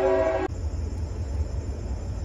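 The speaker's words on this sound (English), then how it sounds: "I think the train is coming again." A train horn blares loudly for half a second, then cuts off, leaving a steady low rumble of the train rolling past.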